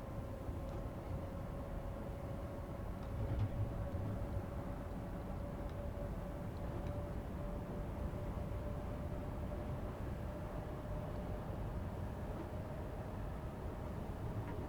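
A London Overground electric train in Train Sim World 5, on the West Coast Main Line near Watford Junction, runs at top speed with a steady rumbling roar and a faint sustained motor whine, unbroken throughout.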